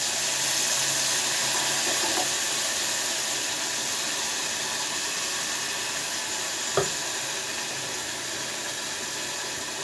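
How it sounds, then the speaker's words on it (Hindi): Tamarind water poured into a pot of black chickpeas cooking on the stove, a steady soft watery hiss and sizzle running throughout, with one brief sharp knock partway through and no talking. "अब इसमें जाएगा इमली का पानी।"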